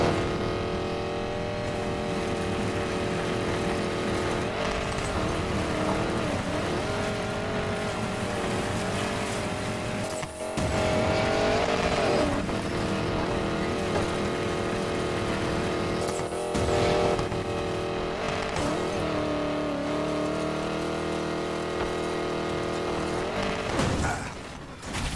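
A 1965 Mustang super build races in Need for Speed Payback, its engine roaring continuously and close with surging revs, brief dips and abrupt bursts throughout.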